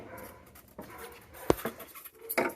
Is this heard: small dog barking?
yes